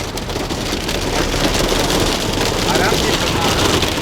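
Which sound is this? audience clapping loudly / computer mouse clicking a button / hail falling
hail falling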